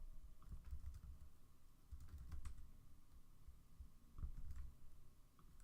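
A terminal command is typed on a computer keyboard as a quiet patter of soft, irregular keystrokes over a low background hum.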